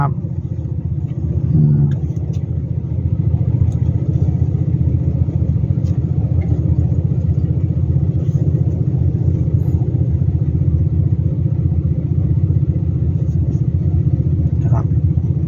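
A car drives through light city traffic in Khon Kaen, Thailand, its engine a steady low rumble that holds evenly at close range throughout, with no talk over it.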